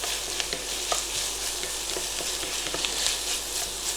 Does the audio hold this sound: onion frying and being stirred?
yes